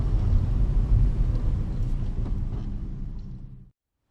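Car driving near a seaport, heard from inside the cabin as a steady low engine and road rumble, close and continuous, fading out abruptly near the end with no talk.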